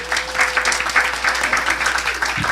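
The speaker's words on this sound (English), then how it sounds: "Give yourselves a hand clap." Audience at a panel discussion clapping steadily and fairly close for a couple of seconds, a dense rattle of many hands with a brief murmur of voices underneath.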